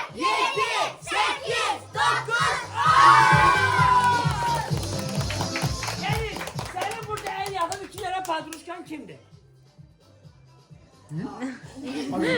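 A group of people at a 10th birthday party claps in quick rhythmic beats alongside excited voices and cheering, close and lively before tapering off near the end.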